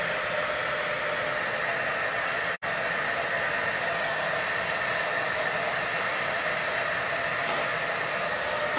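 A hair dryer blows steadily and loudly on nail transfers, a constant close whooshing roar cut off by one brief pause, with no talk.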